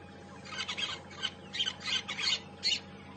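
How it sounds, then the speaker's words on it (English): A cuckoo calls on a morning safari drive at Djuma Game Reserve, giving a run of sharp, repeated squawking notes in short bursts. The calls are moderately loud against quiet bush ambience. "Oh, I can hear the butcher's cuckoo."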